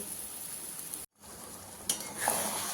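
Butter sizzling in a pan for restaurant-style butter chicken gives a steady, close hiss that cuts out briefly, then returns with a light clink and louder crackle.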